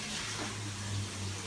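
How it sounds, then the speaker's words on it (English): Yeast water is poured out of a bowl and the bowl is rinsed under a running tap, a steady gushing wash of water with a low hum beneath, no talk. "we're gonna go ahead and pour this out, rinse out our bowl here"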